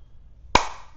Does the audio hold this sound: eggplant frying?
no